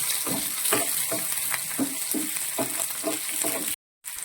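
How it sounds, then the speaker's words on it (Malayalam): Green chillies and shallots sautéing in hot oil for a bread fry, with a steady sizzle broken by regular stirring scrapes about twice a second and close to the pan, and a brief cut to silence near the end. "ഇതിലേക്ക് പച്ചമുളക് ചേർത്ത് കൊടുക്കാം ചെറുള്ളി ചേർക്കാം നന്നായിട്ട് സോട്ട് ചെയ്യാം"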